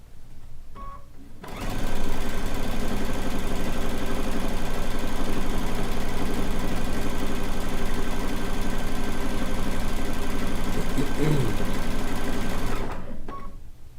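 A sewing machine fitted with a walking foot stitches a rag quilt, running in one loud, steady whir for about eleven seconds after a short quiet start, then stopping.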